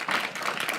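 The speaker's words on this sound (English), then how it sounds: "I want a round of applause for the audience and the panel." Applause from a conference audience closing a startup founders' panel, a steady wash of many hands clapping at close range for under a second.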